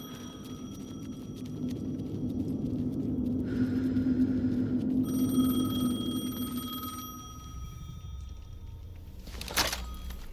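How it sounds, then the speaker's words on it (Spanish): A phone rings in the Alan Wake 2 video game: a steady electronic tone pulses over a low, droning ambient hum, then fades out, followed by a short sharp knock. "El teléfono."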